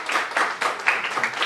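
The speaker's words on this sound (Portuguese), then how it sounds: "uma salva de palmas aí para o pai, o seu Raimundo" Brief burst of hand clapping from a small crowd at a poolside 16th birthday party, a few seconds of uneven, close applause.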